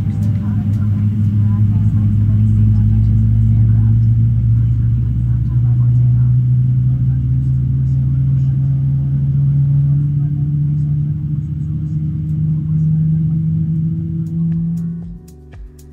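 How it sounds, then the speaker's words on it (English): Twin GE90 jet engines on a Boeing 777-300ER spool up during start at Toronto Pearson, a loud steady low roar that slowly rises in pitch over the whole stretch before cutting off abruptly near the end. "the pilots fired up those massive GE9D engines"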